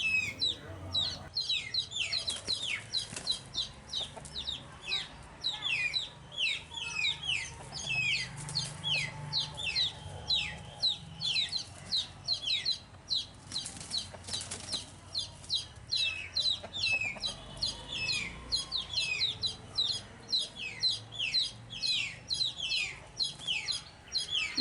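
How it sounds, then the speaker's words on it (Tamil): Hens cluck and squawk agitatedly in rapid, overlapping bursts while fighting, with high chick peeps throughout; a busy, close flock scuffling. "ஒரு கோழி இன்னொரு கோழியோட பொறாமையில் தான் சண்டை போடுது"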